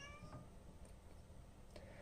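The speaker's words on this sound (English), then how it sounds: "I guess my cat has a complaint. I don't know if you can hear him whine in the background." A cat whines and meows faintly in the background, a few brief plaintive calls over a steady low room hum.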